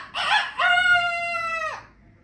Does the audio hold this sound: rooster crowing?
yes